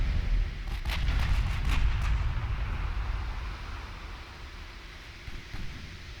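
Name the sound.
naval gunfire in the video game Ultimate Admiral Dreadnoughts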